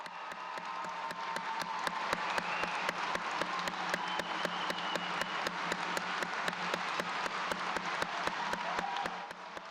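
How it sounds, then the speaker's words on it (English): The audience at a medical school white coat ceremony gives the class of 2020 sustained applause, dense steady clapping with a crowd murmur underneath that runs for nearly ten seconds. "to please stand up one last time for a round of applause"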